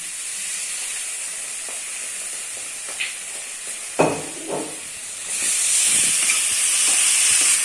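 Hot water is poured into a simmering paneer and tomato curry, setting off a few sharp clinks, then a loud, steady hissing sizzle that swells and carries on to the end.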